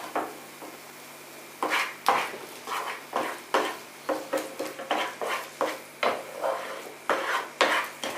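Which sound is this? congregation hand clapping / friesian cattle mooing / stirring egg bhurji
stirring egg bhurji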